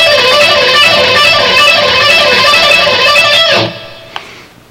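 A fast, intense rock electric guitar lick played at speed as a dense run of bright sustained notes, ringing out then cut off abruptly near the end, followed by a brief pick click.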